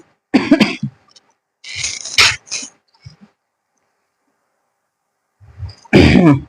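Three bursts of coughing, loud and close, separated by short pauses, with a quieter throat sound in between; no talking.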